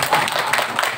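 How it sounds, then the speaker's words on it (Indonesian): An audience claps hands together at a gathering, a brief, dense patter of many hands at moderate loudness, with no clear voices. "Tepuk tanganlah dulu lah."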